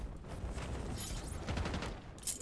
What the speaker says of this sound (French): Il y a un mec qui me tire dessus